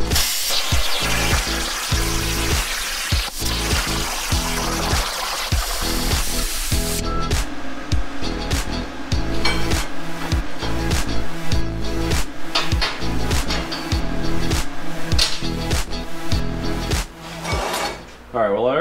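A Crossfire CNC plasma cutter cuts parts with loud, close hissing and crackling bursts, broken by short pauses and clanks in an irregular rhythm.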